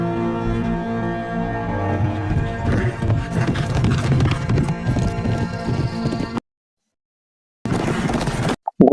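Horses galloping at speed, hooves clip-clopping loud and steady under a dense dramatic score for about six seconds, then a brief silence before the hoofbeats and music return.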